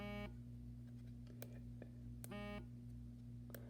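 iPhone 6 Plus vibration motor buzzing in two short bursts, a harsh rattling drone over a steady low electrical hum, with small clicks between, close and fairly quiet.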